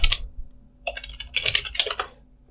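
A search term being typed into a Google search bar on a computer keyboard, heard as an opening tap and then a few quick, close bursts of clicking keystrokes with no talking.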